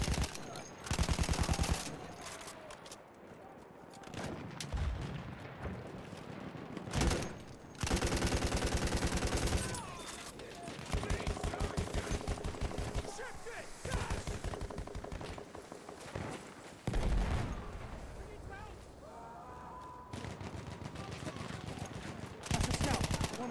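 Machine-gun fire from a Battlefield 1 match, heard as long, loud, dense bursts of rapid shots separated by brief pauses and mixed with other game noise, with excited shouting over it.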